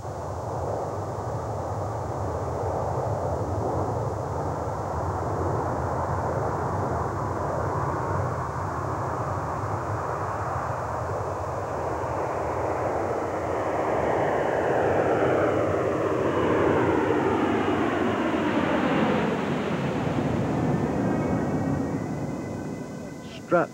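A large passenger airliner in flight, a steady broad engine drone with a rising whine sweeping upward near the end, carrying under narration.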